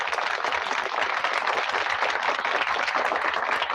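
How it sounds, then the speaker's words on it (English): Steady polite applause from a small group, a continuous even patter of hands clapping at close range with no voices over it. "golfers clap"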